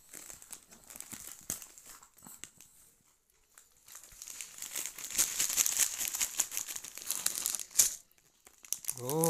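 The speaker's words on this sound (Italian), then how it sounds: "Ora apriamo la calza di Bing che hanno preso le mie figlie." Packaging of a Bing-themed Befana stocking crinkles and tears in bursts, close and fairly quiet, with crackly rustling that pauses briefly before building into denser handling.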